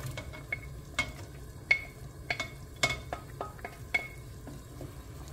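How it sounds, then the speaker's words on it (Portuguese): Chicken livers returned to a hot pan to fry in a soda-based sauce, with a utensil scraping and clinking against the pan in scattered sharp taps over a low, steady sizzle. "Acrescente novamente o fígado que você retirou"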